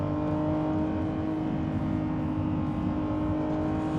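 Lamborghini Revuelto 2025 V12 hybrid supercar engine heard from inside the cabin while driving, a steady loud drone with layered harmonics, holding even throughout with no talk.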